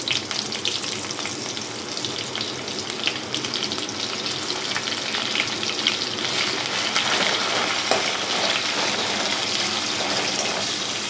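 A medium-sized onion with black cumin seeds fries in hot oil for a Bengali prawn and water-lily curry, giving a steady, dense, close sizzle that continues and builds slightly, with no talking.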